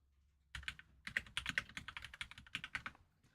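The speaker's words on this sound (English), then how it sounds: "I'm typing." Rapid typing on a computer keyboard, a steady run of close, crisp key clicks in uneven bursts after a brief silence, with no voices.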